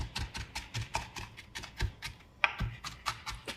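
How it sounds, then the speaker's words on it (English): A knife rocks through a jalapeno on a cutting board, giving a quick run of close, crisp taps spaced fairly evenly. "This way we get our jalapeno chopped up nice and fine."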